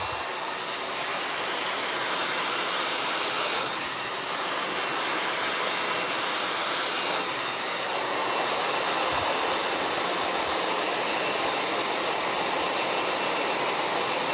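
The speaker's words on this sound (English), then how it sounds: "My blow dryer just went off." A hair blow dryer runs steadily at close range during a salon blowout, a continuous loud broadband whoosh with no talk over it.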